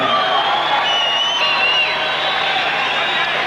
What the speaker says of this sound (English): There's the applause for Jeff Harding as he's introduced